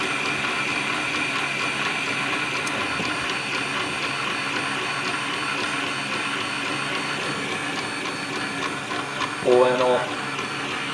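A Wanhao Duplicator 5S 3D printer runs steadily nearby, its continuous mechanical whir and stepper tones holding throughout, with a brief louder clatter near the end and a few spoken words over it.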